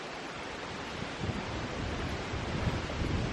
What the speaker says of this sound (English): You can really feel that wind coming up the valley